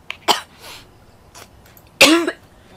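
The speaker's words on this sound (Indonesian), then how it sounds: "Batuk" A few sharp coughs, one close and loud near the end, separated by short quiet gaps.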